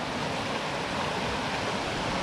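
Water rushes steadily through a woodland stream at Cabin Wood near Cookstown, County Tyrone, catching and churning in a continuous broadband roar, close and unbroken with no pauses.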